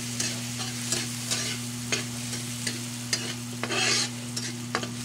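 Garlic sautéing in a pan for adobong liempo: steady close sizzle with repeated rhythmic scrapes of a spatula stirring, over a low constant hum.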